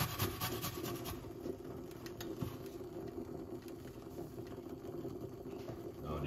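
Fresh organic ginger grated against a rasp, a steady close scraping rub that runs continuously with no pauses or talk.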